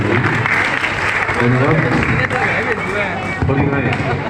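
Audience clapping during a stage magic show, dense and loud throughout, with some voices mixed into the crowd noise.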